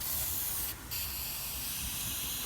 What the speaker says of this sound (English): let's get some degreaser